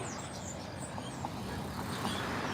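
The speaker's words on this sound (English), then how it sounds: "You hear lots of birds up there in that sign going crazy." Flock of birds chirping excitedly from a roadside sign during an evening city walk, thin high calls scattered over steady passing traffic rumble, faint and somewhat distant.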